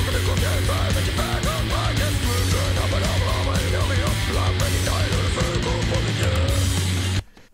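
Full thrash metal mix of a song in an old-school style, with dense driving guitars, pounding drums and bass, loud and continuous, cutting off abruptly at the end.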